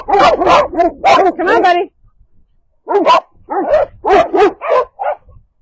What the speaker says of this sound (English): we do have a livestock guardian. He is doing his job and protecting his area and doesn't like to allow strangers